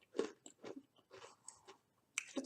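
Close, quiet bites and crunches on a chocolate chip snack, several short crisp bursts with brief pauses between them, and no talking.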